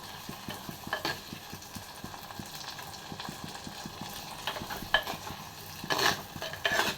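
Onion, garlic and tomato sautéing in a pan for a traditional Tamil postpartum kulambu, with a steady soft sizzle, repeated stirring scrapes and a few louder clinks near the end, close and with no talk.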